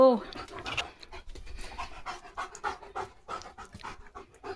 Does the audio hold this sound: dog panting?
yes